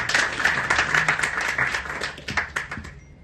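Applause from an audience at a speech event, a mid-sized crowd clapping in fairly distinct, uneven bursts that thin out and stop toward the end.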